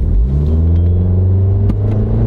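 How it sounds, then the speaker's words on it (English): A car accelerating hard from inside the cabin during a drag strip test, the engine drone rising steadily in pitch with a brief shift transient, loud and close, no talk. "Here we go with the drag strip test."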